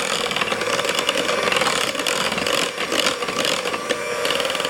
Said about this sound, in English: Now I'll blend this all together.